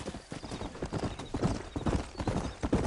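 Horse hooves clip-clopping at a steady gallop on a trail in Red Dead Redemption, rhythmic and fairly close, with occasional snorts and a whinny, no talk over it.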